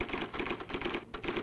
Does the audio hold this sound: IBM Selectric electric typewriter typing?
yes